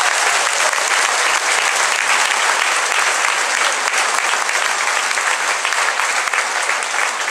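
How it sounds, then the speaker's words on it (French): Sustained audience applause at the opening of the sixth Open K martial arts event in Martinique, a dense, steady clapping from a large crowd filling the whole stretch without break. "À des applaudissements, s'il vous plaît."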